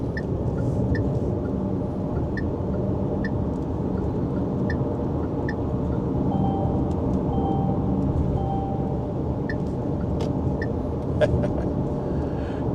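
A Jetour Dashing SUV drives in manual mode, a steady low road rumble and engine drone inside the cabin, with a regular faint beeping chime repeating throughout.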